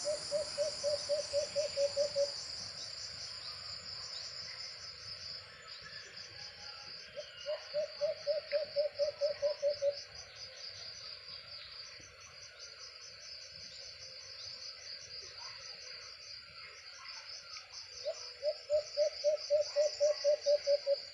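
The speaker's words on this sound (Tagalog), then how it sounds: "Grabe ang huni talaga niya mga birds" A bird delivers three bursts of rapid, rhythmic trilling, separated by pauses, over a constant high chorus of crickets.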